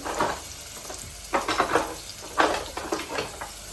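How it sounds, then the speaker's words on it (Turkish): Chopped onion fries in oil in a pan, a steady sizzle with bursts of stirring and scraping clatter at intervals, close and fairly loud, with no talk. "Şöyle biraz soğan doğradım. İçine, içine de yağını katıyorum ve birazcık sonra kavuruyorum."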